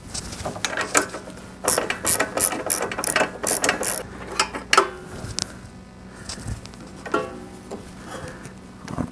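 Ratchet wrench working a spark plug loose from a leaf vacuum's small engine: bursts of rapid metallic clicking, close and loud, broken by short pauses, clunks and tool handling.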